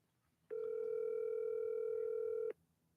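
A single steady telephone tone sounds for about two seconds in a quiet room, faint and even, as a call is placed to a prize winner.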